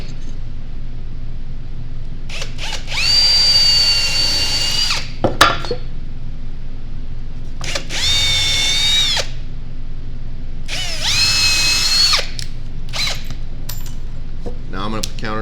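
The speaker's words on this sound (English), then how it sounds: "and I'm gonna drill them out." A power drill bores screw holes in a wooden birdhouse in three loud whining bursts of about two seconds each, separated by short pauses with small clicks and handling noise.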